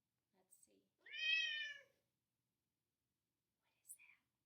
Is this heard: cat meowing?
yes